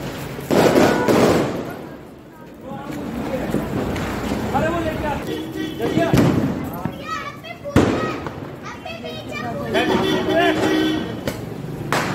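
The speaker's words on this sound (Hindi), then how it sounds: "मैं भी एक बम जलाता हूँ" Firecrackers burst during a family Diwali celebration, several sharp loud bangs spread through the clip, with crackling and voices of people and children in between.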